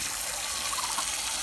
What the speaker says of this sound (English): hot water run out of my hose here as I'm walking over to water the ducks